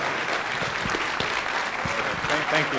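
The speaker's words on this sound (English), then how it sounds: "Let's have a round of applause." Applause from the audience at a Democratic breakfast gathering, sustained clapping filling the room for a few seconds, with voices mixed in underneath.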